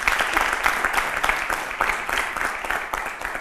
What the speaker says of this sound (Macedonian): Ова заслужува аплауз.